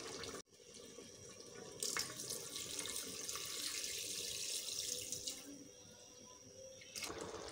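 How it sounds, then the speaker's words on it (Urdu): Water runs steadily from a tap into a cooking pot for mutton korma in an Instant Pot, a continuous close splashing stream lasting several seconds after a brief pause at the start. "اور اب اس کے بیچ میں اتنا پانی ایڈ کر دوں گی کہ جس کے بیچ میں ہمارا گوشت گل جائے"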